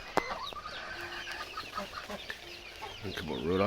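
Rhode Island Red chickens cluck and call in a farmyard flock alongside ducks, scattered soft clucks and short calls at moderate distance, with a brief sharp tap early on.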